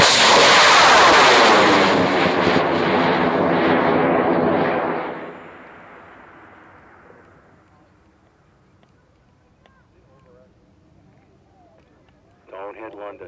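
A large black and white V-2 model rocket weighing 65 pounds lifts off a launch pad on an M motor, a loud roaring blast that thunders for several seconds and then fades into a long distant rumble, with voices and cheering at the end.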